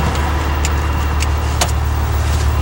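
A Clark County Fire District 6 fire engine crosses a speed bump, its steady low rumble broken by a few sharp knocks and rattles as the onboard equipment jolts.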